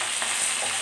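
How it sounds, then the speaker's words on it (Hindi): Potatoes frying in a pan for a mixed vegetable sabzi give off a steady, close, even sizzle with no talking. "पांच से सात मिनट इसको फ्राई कर रही हूँ मैं"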